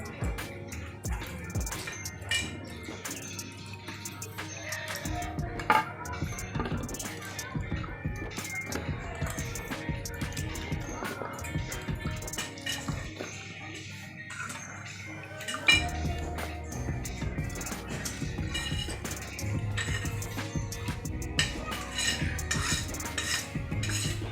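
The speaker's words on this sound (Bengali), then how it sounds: "এখন আমি এই সবজিগুলো ভালো করে ধুয়ে নিব" Cut vegetables are rinsed in a bowl by hand, with ongoing clinks, knocks and splashy rustles of pieces and utensils against the bowl, close and uneven with a few louder bumps, and no voices.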